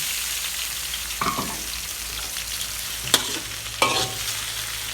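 Shrimp being stir-fried in a pan with crispy garlic, a steady low sizzle broken by a few sharp scrapes and clanks of the spatula.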